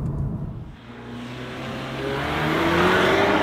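A 2022 Audi S3 with a 2-litre turbocharged engine accelerates hard, its note climbing steadily in pitch and growing louder over a few seconds, heard alone.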